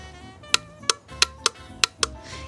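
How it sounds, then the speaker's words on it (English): A motorcycle junction box relay clicks six times in quick, slightly irregular succession, sharp and close, over a faint steady hum. "that is the sound of the junction box getting electricity"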